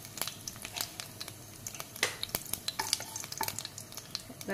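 Nigella seeds and a dried red chili crackle and sizzle in hot oil in a pan, with a steady fry punctuated by sharp, irregular pops and light spoon scrapes, close and moderately loud.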